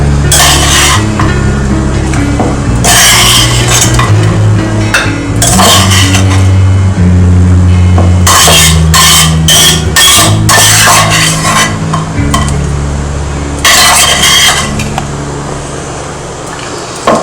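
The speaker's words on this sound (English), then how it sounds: "I have washed the kadai and put it on the stove." A kadai is washed under running water and clanked back onto the stove, with bursts of water, metallic knocks and scraping at close range.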